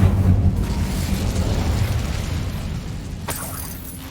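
A fire spell cast in Hogwarts Legacy erupts in a loud burst, then a rushing roar fades over several seconds, ending in a brief crackling flare.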